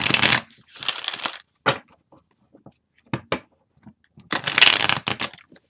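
Tarot cards being side-shuffled by hand, several bursts of crisp riffling and flapping close by, separated by short pauses and small taps of the deck.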